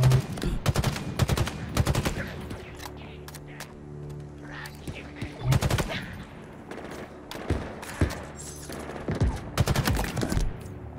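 Gunfire in the video game Halo Infinite, repeated bursts of rapid shots in clusters separated by short pauses, loud and close.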